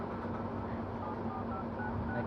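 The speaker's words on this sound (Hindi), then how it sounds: "चलो दूसरा नंबर मिलाता हूँ।" Faint telephone keypad tones beep over a low, noisy background, a few short tones pressed in a row.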